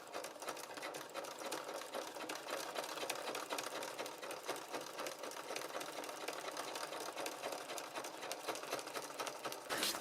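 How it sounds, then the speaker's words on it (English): A sewing machine stitches slowly through thick fabric with a steady, even whirring chatter that runs continuously at close range and moderate volume, ending with a brief change at the very end. "I'm just stitching this slowly because it's quite thick."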